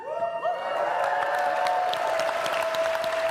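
A large audience at a university closing ceremony claps and cheers, a dense continuous roar of applause with whoops rising through it, loud and sustained throughout.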